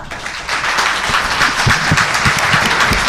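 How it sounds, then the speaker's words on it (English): Audience applause at a legislative district assembly debate, a dense, steady burst of many hands clapping that fills the room for about three seconds with no voices over it. "Round of applause."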